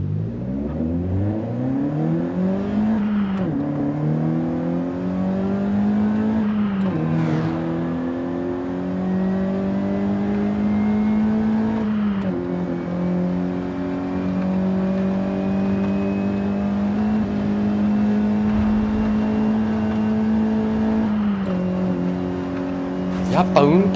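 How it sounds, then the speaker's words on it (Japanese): Engine of a Nissan Silvia S15 Spec R in the Forza Horizon 5 racing game, heard from the driver's seat, revving up through gears in repeated rising sweeps with brief dips at each shift, loud and continuous. "シルビアのエンジン音です。"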